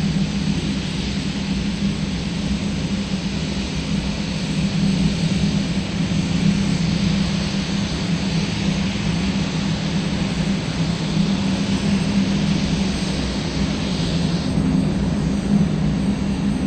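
A drag racing car engine at an NMCA/NMRA all-star nationals event revs at high RPM, a loud, steady droning roar with a strong low hum that holds for the whole stretch, no voices.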